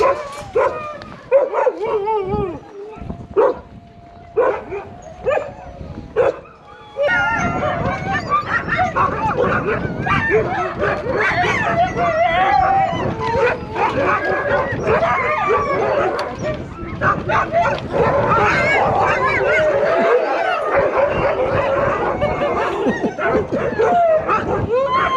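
A pack of sled dogs in a kennel in Svalbard erupts into continuous loud barking, yipping and whimpering, first scattered then a dense, frenzied chorus from many animals nearby, with some voices mixed in.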